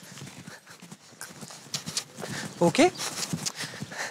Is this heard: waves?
no